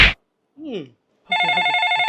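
A telephone rings with an incoming call, a loud, close electronic ringtone with a steady warbling pulse that begins after brief spoken sounds and runs to the end.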